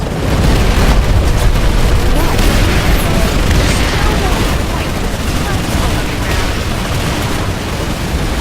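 Grenade blasts and gunfire in a large PlanetSide 2 battle keep up a dense, loud barrage of booms and bursts, with voices partly audible under the din.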